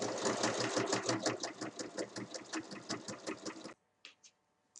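A sewing machine stitches closed the small side opening of a fabric bag 1 mm from the edge. It runs in a fast, even mechanical rattle for several seconds and then stops, leaving a couple of faint clicks.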